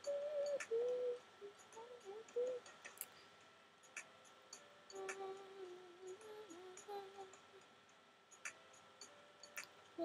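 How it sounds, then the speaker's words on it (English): Game bird calls from the Animal Jam world, several short tonal chirps and coos near the start, then sparse, fainter calls over a steady ambient game backdrop. "there's a bird that comes up right here that you have to watch out for"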